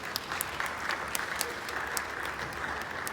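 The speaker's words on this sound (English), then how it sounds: "give yourselves a thunderous round of applause" A conference audience on the final day of a digital event gives sustained applause, a dense, even clatter of many hands with a few sharper claps standing out, no voices over it.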